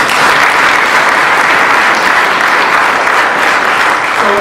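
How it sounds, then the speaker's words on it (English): An audience at a medical device industry talk breaks into loud, sustained applause, dense clapping filling the room steadily without letup. "everyone should give applause to Martin."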